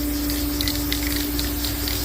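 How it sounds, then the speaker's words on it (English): Steady, loud hiss of spray graphite from an aerosol can, coated onto LS 6.0 cylinder heads during a rebuild, with a faint mechanical hum underneath and no talking. "from the makers of broken bolt remover comes spray graphite"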